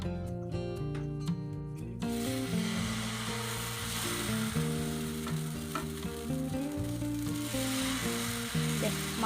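Wheat dosa batter sizzles on a hot dosa griddle, a steady bright crackling hiss that runs throughout after a quieter start, with soft scraping as it is spread and a faint tonal background underneath.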